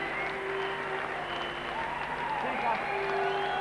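Cricket crowd at a 1995 West Indies versus Australia Test match applauding Steve Waugh's 150, a steady distant wash of clapping under a commentator's voice.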